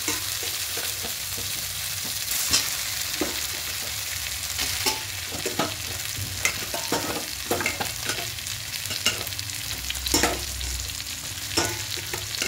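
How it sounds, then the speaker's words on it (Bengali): Fried potatoes stirred into a cooked, dried-down spice paste for a vegetarian malai potol curry, soft sizzling under scattered scraping and clinking of a spatula against the pan, fairly quiet and close. "একটু মশলাটা কষে শুকনো হয়ে এসেছে, এবার এখানে ভেজে রাখা আলুগুলোকে দিয়ে দেব।"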